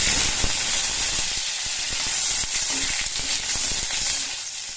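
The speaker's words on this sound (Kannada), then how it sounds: "ಇದನ್ನು ನೀವು ಸ್ವಲ್ಪ ಲೋ ಫ್ಲೇಮ್ ಇಟ್ಕೊಂಡು ಫ್ರೈ ಮಾಡ್ತೀವಿ" Paneer fries in a pan over a low flame, giving a continuous, fairly loud hiss of sizzling oil with a few soft utensil taps and no voices.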